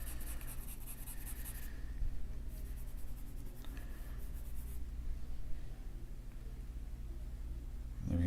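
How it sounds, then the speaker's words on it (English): A pencil lightly scumbling across paper to lay in soft value while drawing old stones, a steady, close, continuous hushed scratching that runs the whole time with no pauses and no voices. "I heard this called scumbling, where you're taking your pencil very lightly and just filling in some light"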